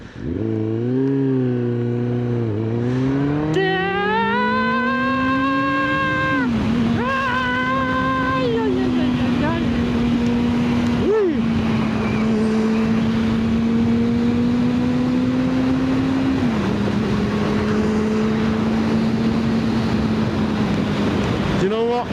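A motorcycle engine rises through the gears and then holds a steady cruise as the bike rides along a road. The engine is loud and close, with wind noise over it throughout.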